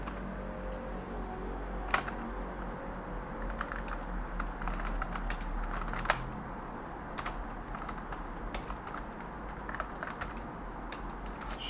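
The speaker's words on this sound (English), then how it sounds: "I type this way too often." Steady, quiet typing on a computer keyboard at a Linux developer's desk, soft clicking keystrokes with occasional louder taps, alone in a calm room.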